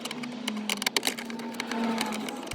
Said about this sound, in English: Take your T20 screwdriver and take these screws out.